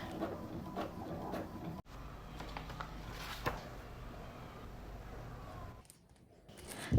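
Printer running through a sticker print test on glossy sticker paper, a steady mechanical whir with rhythmic sliding and clicking passes, a sharp cutoff partway, then a brief quiet before the motor resumes.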